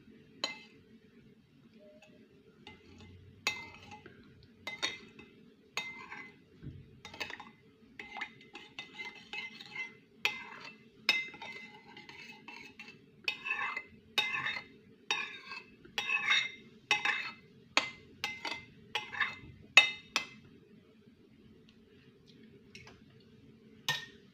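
A spoon stirs a mixture with about 200 grams of homemade tomato sauce while oven-baked stuffed cucumbers with salmon mince and mushrooms are prepared, giving close, irregular scrapes and light clinks against the bowl that quicken midway, with no talking.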